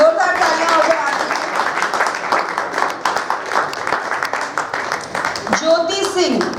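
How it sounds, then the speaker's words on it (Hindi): Audience applause for actors at a Hindi theatre performance, a steady dense clapping from a hall crowd running under a loud announcer's voice, ending as he speaks again. "जोरदार तालियां हो जाए आपकी"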